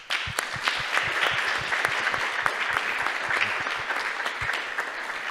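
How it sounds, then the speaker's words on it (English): Audience applause at a talks event, a steady, fairly distant wash of many hands clapping with sharper individual claps standing out, continuing evenly without speech. "So I will make another round of applause for everybody that was involved in the organization of the event"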